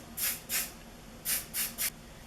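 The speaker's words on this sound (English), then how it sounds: "So I'm going to go ahead and spray this all down." Five short hissing bursts of hairspray from an aerosol can, two then three, close by and crisp against a quiet background.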